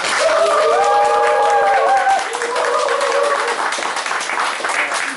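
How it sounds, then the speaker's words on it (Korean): Loud, energetic applause from a crowd opening a small library, with voices calling out over the clapping during the first two seconds before the clapping continues on its own. "여러분의 힘찬 박수와 함께 시작하겠습니다"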